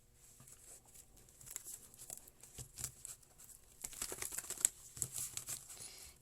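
Tarot cards being shuffled by hand, a soft crinkly patter of card edges riffling and sliding in irregular bursts, quiet and close, with no voices.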